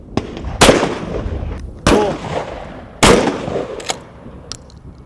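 Shotgun blasts fired in the film Knuckle Jack, three loud sharp booms spaced about a second apart, each followed by a brief ringing decay, with a fainter pop between them.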